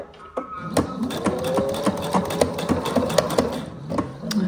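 Sewing machine stitching a fabric pouch with a zipper about 1 cm from the edge, giving a close, steady run of rapid needle clacks over a whirring motor with a few uneven pulses.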